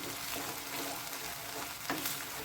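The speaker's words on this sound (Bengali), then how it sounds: "এটা একটু হালকা করে কষিয়ে নেব" Onion, garlic and ginger paste sautés gently in a pan for Malabar paneer, making a continuous, dense sizzle with faint stirring movements, steady and close, without speech.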